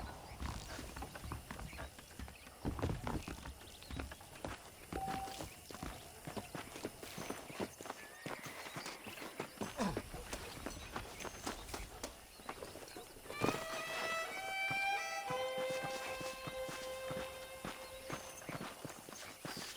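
Horse hooves clip-clopping at a steady walking pace in the Red Dead Redemption western video game, close and clear under a backdrop of music, with a brief whinny near the middle.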